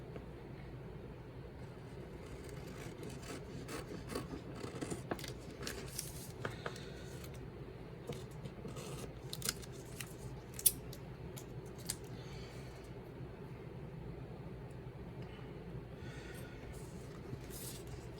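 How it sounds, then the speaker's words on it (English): Scissors sticky with adhesive snip through printed pinball playfield pieces, a series of faint irregular clicks and crisp cuts over a steady low background hum, close up with no talking. "Right, I'm going to finish cutting these out."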